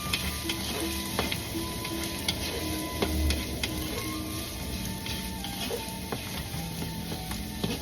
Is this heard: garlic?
yes